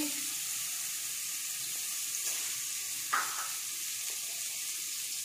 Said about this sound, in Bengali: তেল গরম হয়ে গেছে। এরপর রসুন কুচি, পেঁয়াজ কুচি,